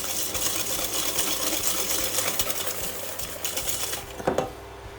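Egg yolks and sugar are beaten together in a bowl with a rapid, steady whisking and clattering close up, ending in a brief louder clink against the bowl.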